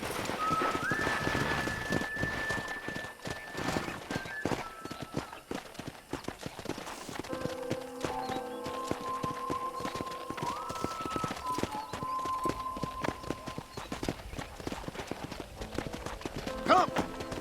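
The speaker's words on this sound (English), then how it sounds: "let's see if you can still ride a horse" In Red Dead Redemption on PC, a horse's hooves clop in a steady rhythm as it is ridden, with sustained musical tones and some faint background sounds underneath.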